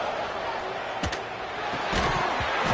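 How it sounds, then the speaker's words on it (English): Roaring stadium crowd in a college football video game, Clemson versus Miami, a constant loud wash of cheering with a few sharp slaps and thumps, swelling louder toward the end. "It's early, but this crowd is fired up. Listen to this noise here."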